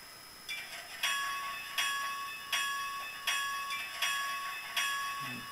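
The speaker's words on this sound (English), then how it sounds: "Bell is hitting" A locomotive bell from a Soundtraxx Tsunami decoder in an N scale Life-Like 2-8-8-2 rings at a steady, even pace, about seven clear metallic strikes with ringing decay between them.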